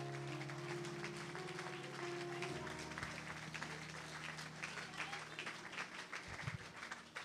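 Church congregation clapping and cheering for Jesus Christ during a worship service, a sustained wave of faint applause with a sustained tone from music or voices underneath.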